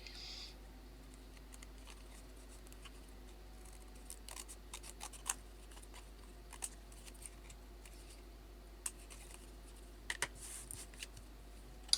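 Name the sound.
scissors trimming paper corners into fence palings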